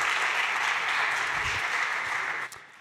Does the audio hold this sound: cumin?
no